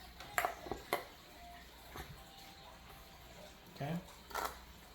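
Pico de gallo gets stirred with a pinch of salt in a bowl, with light scattered clinks and scrapes of a utensil against the dish, faint and intermittent under a quiet room.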